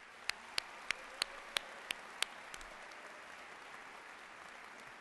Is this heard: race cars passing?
no